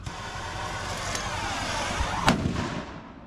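A gas-powered cannon fires a hollow-point tennis ball outdoors, one sharp muffled boom over a rumbling background that rings out and fades.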